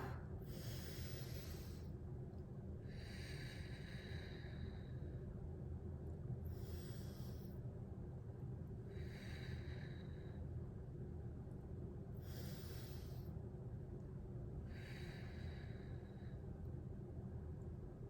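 Slow deep breathing during a relaxation exercise, six rhythmic breath cycles drawn in through the nose and pushed out through the mouth, close and airy over a steady low background hum.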